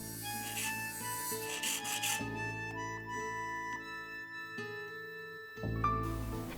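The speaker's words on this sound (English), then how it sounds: "If the saw teeth are blunt, file them to make the saw teeth sharp." A metal file rasps across the teeth of a tenon saw to sharpen them, in short rough strokes heard up close with brief pauses between passes.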